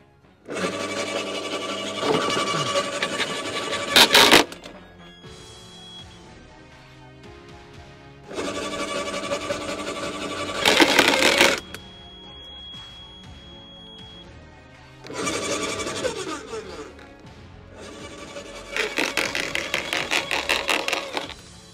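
A branch shredder strains against a 44 mm grapevine branch in repeated loud grinding, whirring bursts of a few seconds each, separated by quieter pauses where the machine idles or cuts out.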